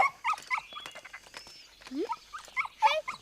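A small puppy yips and whimpers in short, high, uneven bursts, with brief squeals and sniffs close by; faint murmuring in the background.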